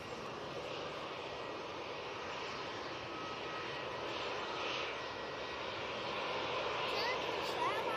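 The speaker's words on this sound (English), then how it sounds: "Very nice departure there from the team." An airliner departing Manchester Airport gives a steady, broad jet engine roar that holds level and far off for the whole stretch, with faint talk mixed in.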